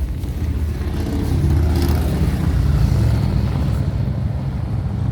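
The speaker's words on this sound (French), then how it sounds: "Désolé pour les motos. Hein. Il y en a plein." Steady rumble of passing motorcycles, including Harley-Davidsons, engines swelling and fading nearby with a broad low drone, no voices.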